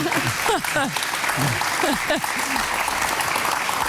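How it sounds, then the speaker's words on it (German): Audience applause at an event, steady clapping filling the room while a voice talks over it throughout. "Ich darf jetzt schon klatschen für die Leistung."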